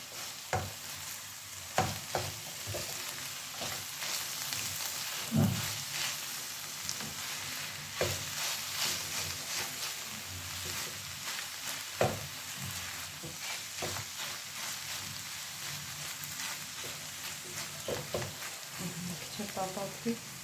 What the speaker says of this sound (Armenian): Թողնենք մի լավ տապակվի։